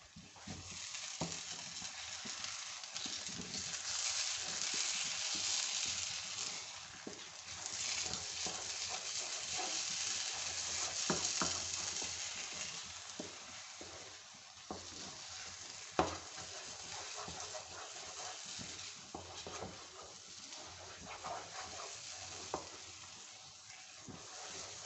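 A spoon stirs semolina halwa in a pan, giving steady scraping and a soft sizzle with irregular clinks and knocks against the metal throughout. The sound is close and continuous, and no one speaks.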